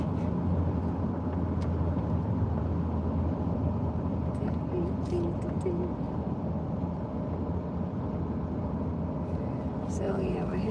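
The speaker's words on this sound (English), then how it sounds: "we're hitting a little traffic here on the I-95 South" Steady road traffic on the I-95 South highway heading toward Orlando, a continuous low rumble of passing vehicles heard from inside a car, with a voice speaking over it.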